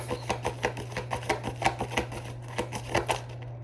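Tarot cards are shuffled and drawn, giving a steady patter of soft close riffles and slaps, evenly paced and fairly quiet over a low constant hum, with no voices.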